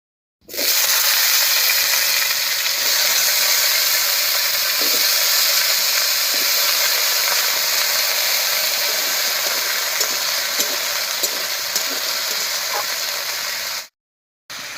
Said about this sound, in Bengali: ফোড়নটা ভাজা হয়ে গেছে এর মধ্যে দেব কেটে রাখা আলু